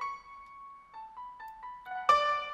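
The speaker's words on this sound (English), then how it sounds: "I've got a philharmonic layer here as well," A philharmonic orchestral layer in an electronic music track plays sustained, smooth string-like notes that step between pitches. It ends on a brighter, fuller accented hit, with no voices.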